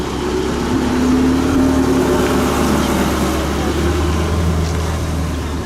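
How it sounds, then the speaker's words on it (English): A white Porsche 918 Spider arrives at a busy Cars and Coffee meet, its engine a steady, loud, close drone with a low hum that holds evenly throughout. "Good timing there then with the 918 Spider just arriving"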